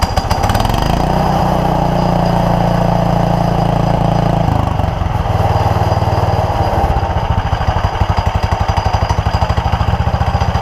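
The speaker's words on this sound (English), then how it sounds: "Let her warm up for a minute before I take the idle down." A vintage 1955 lawn mower engine idles as it warms up: a loud, close, steady putter that briefly dips and stumbles midway, then settles into a rapid, evenly pulsing beat.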